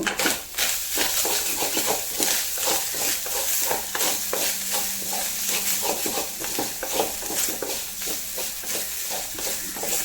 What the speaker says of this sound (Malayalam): അപ്പോൾ കരിവേപ്പില ഇട്ടു.